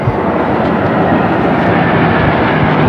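U.S. Navy planes fly overhead during a Hudson River ship parade, producing a loud, steady roaring drone that fills the whole span with no talking.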